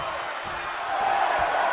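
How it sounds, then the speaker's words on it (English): A large crowd at a wrestling match cheers loudly, its roar swelling to a dense, steady noise with no clear individual voices. "The sound of this crowd is deafening,"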